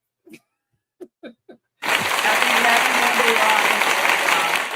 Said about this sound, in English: Round of applause from Phoenix.